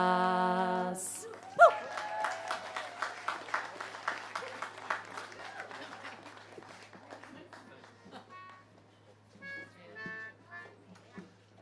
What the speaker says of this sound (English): Another round of applause for the singers.